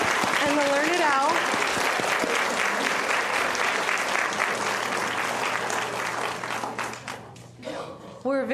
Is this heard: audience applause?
yes